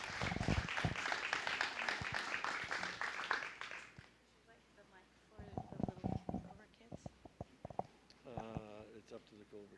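Clapping from the crowd at a county fair 4-H and FFA poultry show, a short burst of applause that fades after a few seconds, followed by people talking and scattered handling noises.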